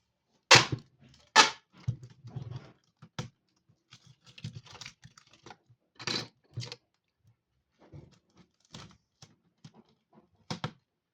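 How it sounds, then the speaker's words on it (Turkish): Adhesive tape is pulled and pressed onto the side of an object in irregular crackling, scratchy bursts, close up, with quiet gaps between strips and no talking. "Şimdi öbür yan tarafını da bantlayacağız."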